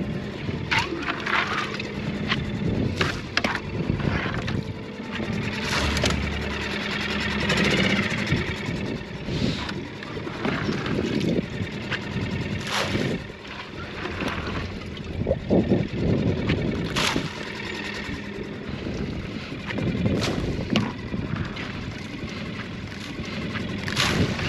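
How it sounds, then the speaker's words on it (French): An outboard boat motor runs steadily at cruising speed, with water splashing and occasional knocks and clatter over the engine drone. "on va mettre le moteur en vitesse minimum, vitesse de croisière"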